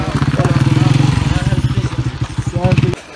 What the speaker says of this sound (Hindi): ये यहाँ के लोकल आ रहे हैं बाइक पे